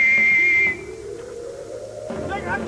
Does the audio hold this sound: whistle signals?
yes